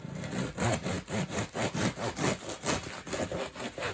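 A serrated knife saws through hot, crusty sourdough bread in quick, steady back-and-forth strokes, a dry rasping crunch repeating about three times a second, close up.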